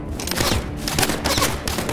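Sustained rapid gunfire in the shooter Arena Breakout, a loud, dense fusillade of close shots with thuds mixed in, continuous throughout and heard without talk.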